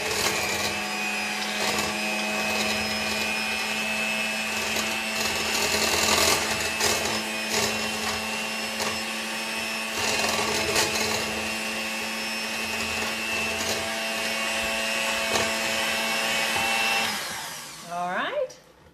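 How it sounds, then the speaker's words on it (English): A kitchen blender whirs steadily as it mixes oil and brown sugar for vegan pumpkin spice cookies, a loud continuous motor drone lasting many seconds before winding down at the end. "We're going to go ahead and blend these 2 ingredients together, either the oil and the sugar or the applesauce and the sugar."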